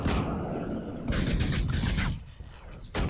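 Twin pistols fire in Guild Wars 2, loud rapid bursts of shots in two main volleys separated by a short lull, followed by a final sharp burst.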